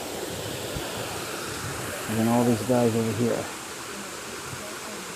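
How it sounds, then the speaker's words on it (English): A botanical garden waterfall makes a steady, broad rushing wash throughout, fairly close, while someone talks over it for a second or two. "Nice waterfall."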